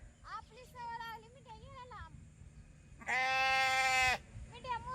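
A goat bleats several times near a buffalo-grazing pasture, short wavering calls and one long, loud, drawn-out bleat, with someone talking in between.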